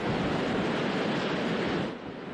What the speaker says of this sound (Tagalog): Ang hangin, mistulang ipo-ipo, galing na sa iba't ibang direksyon.